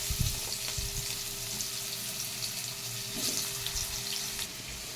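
Potatoes fry in hot oil in a wok with a steady, close sizzle and a few sharp crackles near the start, continuous and fairly quiet, with no talking.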